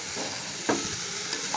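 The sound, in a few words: dried loitta fish frying and being stirred in a pan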